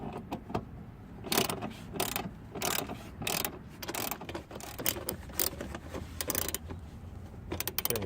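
A socket ratchet tightens 14 mm bolts on seat brackets mounted in a 2015 Honda Fit, giving repeated bursts of quick clicking with short pauses between strokes, close up and with no talking.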